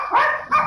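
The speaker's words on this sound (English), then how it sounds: "Ooh, dogs." Two sharp dog barks in quick succession, loud and close, with no talking.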